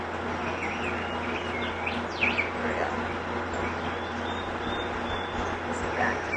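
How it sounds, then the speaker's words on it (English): Small birds chirp and tweet intermittently around a garden bird bath and fountain in an outdoor park setting, the calls faint against a constant background of splashing water and general ambient noise. "you can hear our bird sounds Our birds in the bird bath and the fountain"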